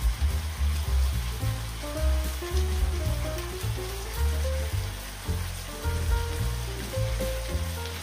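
Chopped chilies hit hot oil for tomato chutney, giving a steady dense sizzle that runs throughout, heard beneath looping background music with no talking.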